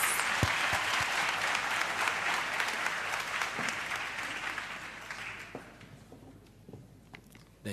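An audience at a university campus safety programme launch applauds, a full, even round of clapping that gradually fades out over several seconds, with a few scattered claps at the close.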